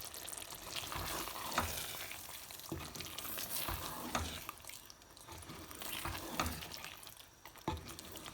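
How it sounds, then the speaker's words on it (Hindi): Aubergine curry with tamarind water sizzles and fries in a pan while a spoon stirs it, with steady crackling and repeated scraping strokes at close range. "अब इसे हम मिक्स कर लेते हैं।"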